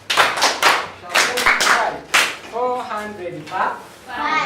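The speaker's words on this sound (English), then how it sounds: "Yes, you clap for her." Schoolchildren in a classroom clap sharply for a classmate at the blackboard, loud bursts of hand claps alternating with a spoken voice nearby.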